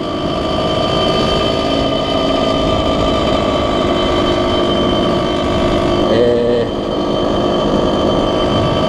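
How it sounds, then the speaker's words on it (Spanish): Geared motorcycle engine running steadily in fourth gear after the clutch is eased out, a loud continuous drone throughout with a brief change in pitch near the end. "suelto el embrague despacio y ya puedo acelerar, ya estoy en cuarta"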